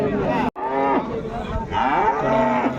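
A Jersey cow at a cattle market moos loudly nearby, two long, drawn-out lows separated by a brief pause, with a short break early on.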